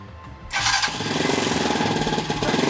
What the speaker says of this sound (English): When I hit that starter button, I'm also going to give it just a little bit of throttle.